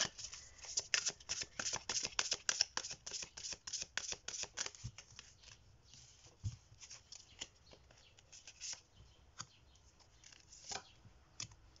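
Tarot cards being shuffled for a reading, a quick run of crisp riffling flutters at first, then sparser soft card slides and taps, close and quiet.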